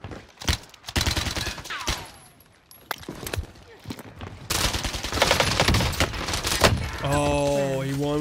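Gunfire from the video game Warzone crackles in sharp bursts and single shots, mixed with game effects and a tonal sound near the end, while people talk excitedly over it.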